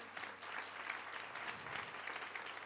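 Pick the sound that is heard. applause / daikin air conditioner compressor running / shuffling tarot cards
applause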